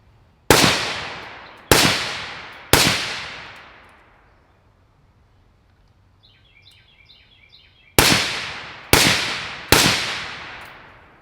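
Suppressed gunshots from a Liberty Precision Machine Torch with a vented end cap: three sharp loud cracks, a pause with faint chirps, then three more, each with a decaying echo outdoors.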